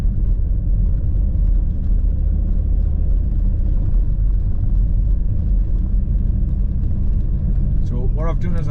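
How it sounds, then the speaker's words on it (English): A car engine idles after starting, giving a steady low rumble close by and unbroken throughout. A brief higher tone rises near the end. "I've turned the engine over for to start charging up the Digi-Power battery again"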